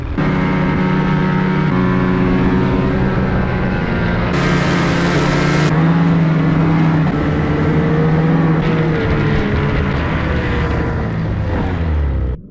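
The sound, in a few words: snowmobile driving fast through wet snow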